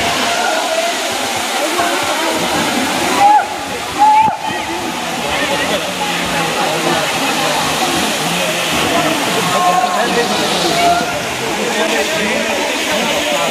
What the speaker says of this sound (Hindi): देखो ऊपर से पानी कैसे गिर रहा है